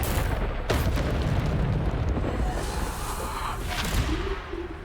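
A blasting spell detonates in a wizarding game, a sharp cracking boom followed by rumbling debris and layered magical effects, loud and dense throughout.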